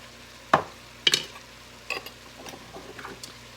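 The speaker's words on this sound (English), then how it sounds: "Gonna get that all mixed up." Lentil soup seasoned with cumin and oregano is stirred in a pot on the stove: a few sharp spoon knocks and scrapes against the pot, then softer stirring over a quiet steady background, with no talking.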